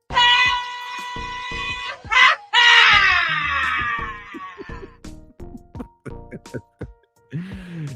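A loud shrill scream sound effect is played, rising into a strained wail that breaks off, followed by scattered clicks, thumps and a short voiced whoop.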